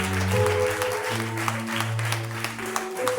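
Applause from a church congregation patters steadily throughout, while a sustained tonal hum, likely organ or keyboard, rings underneath.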